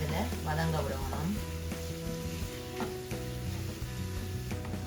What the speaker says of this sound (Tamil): இந்த தூள் பச்சை வாடை போகிற அளவுக்கு நாங்கள் இதை கொஞ்சம் நல்லா இதில் வதங்க விடுவோம்